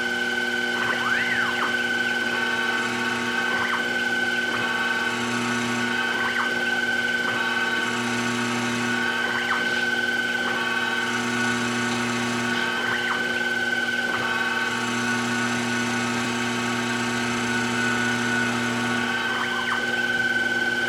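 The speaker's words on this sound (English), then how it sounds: "Let's cut the taper first and see what that looks like." A lathe cuts a taper for an alcohol lamp, giving a continuous mechanical whine with steady hum and tonal ringing that pulses in regular passes throughout, close and moderately loud.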